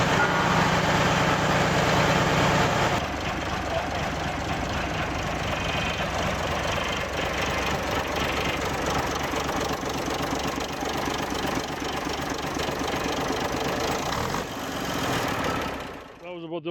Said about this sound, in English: The truck fired up right away because he had put new batteries and fuel and filters and whatever in it.